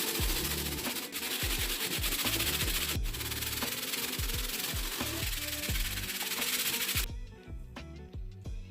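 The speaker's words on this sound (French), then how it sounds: "on prend la brosse médium, de la solution, et puis on est reparti" A medium brush with cleaning solution scrubs a Nike Dunk SB sneaker in rapid, rhythmic back-and-forth strokes, a close, loud wet rasping that continues steadily and then drops away near the end.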